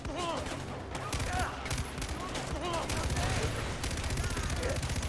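Dense, continuous gunfire from Far Cry 4 rattles throughout in rapid, overlapping shots, loud and close, with voices talking over it.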